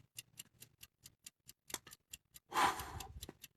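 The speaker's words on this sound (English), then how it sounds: "This is a timer. What it is telling you, the clock is ticking." A timer ticks in steady, evenly spaced clicks, quiet and close, before a brief louder rushing burst near the end.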